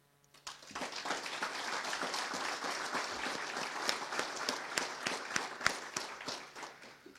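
A conference audience applauds its gold, silver and associate sponsors with a sustained round of clapping that starts sharply and holds steady, dense and fairly distant, with a few louder individual claps standing out toward the end.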